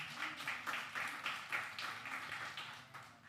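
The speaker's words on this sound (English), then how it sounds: "Please, a round of applause for him once again." Audience applause at an Expo 2020 Dubai panel on the Sahel: steady, fairly faint clapping from a crowd that swells in repeated waves for a few seconds.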